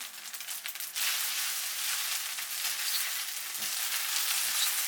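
Rice noodles stir-fry with soy sauce in a hot pan, a loud, steady hiss of sizzling that jumps up sharply after the first second and continues evenly with faint stirring noises.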